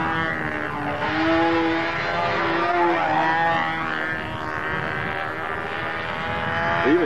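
The engine of a large take-apart model plane, Miss Ashley 222, drones overhead across an open field, a steady buzzing whine that swells and eases slightly as it passes at a moderate distance.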